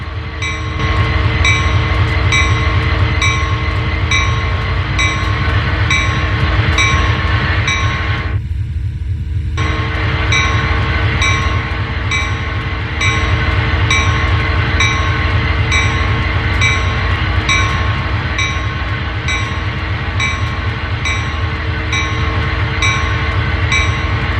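A locomotive turning on a railway turntable in Train Sim World 2, giving a loud, steady mechanical rumble with sustained tonal hum and repeating clicks, briefly cutting out midway before resuming.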